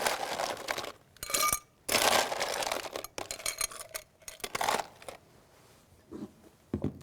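Ice cubes dropped and scooped into a glass for an iced mocha, a series of loud, close clattering bursts separated by brief pauses.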